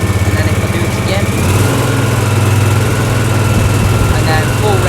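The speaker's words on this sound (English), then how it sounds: "turn the revs up using the RPM lever" A Husqvarna R420TSX AWD rider mower engine idles with a pulsing throb, then climbs to a steady higher revving drone after about a second and a half, close and loud, with speech over it.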